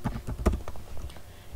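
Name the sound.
typing on a computer keyboard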